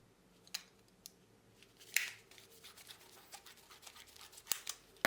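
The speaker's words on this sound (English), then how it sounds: "cut to length with the tubing cutters" Tubing cutters cut copper pipe to length, giving a few faint, sharp metallic clicks and scrapes spread over a quiet background with no talking.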